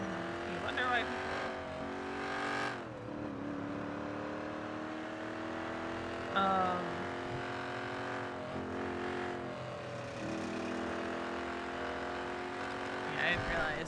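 A car engine in the NoPixel 4.0 game hums and revs in steady tones, rising and shifting pitch a few times, with a background of game audio and no speech.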